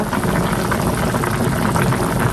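Banana curry coming to a boil in a covered pot, a loud continuous bubbling roar with a dense churning texture, close and steady with no talking.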